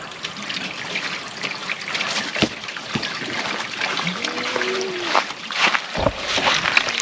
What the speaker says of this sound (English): filling it up with some nice fresh water